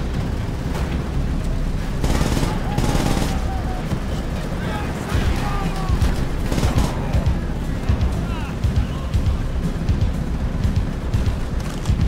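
Gunfire and explosions in Call of Duty: World at War make a loud, dense battle din of repeated shots and booms, with someone talking over it.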